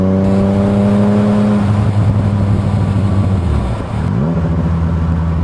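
A 121-horsepower motorcycle on a mountain group ride toward Estes Park revs hard and loud, holding steady engine tones that climb through the gears with a brief dip and rise as it shifts.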